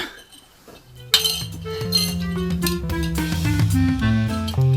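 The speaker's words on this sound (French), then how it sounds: "Marcel, tu veux venir trinquer à cette bonne nouvelle?" Glasses meet in a toast with one bright, sharp clink and a lingering ring, followed by a run of melodic ringing tones.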